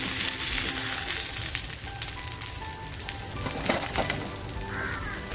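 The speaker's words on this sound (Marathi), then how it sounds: "मग आपलं पापलेट आहे ना ते एक बाजूने असं छान फ्राय झालेलं आहे" Pomfret, a stuffed crispy fish, fries in a pan, giving a steady, close sizzle with faint crackling throughout and no voices.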